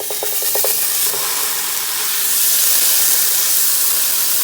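Stuffed turkey burger sizzling in olive oil in a hot pan, a steady broadband hiss that swells and grows louder partway through, with a few light clinks early on.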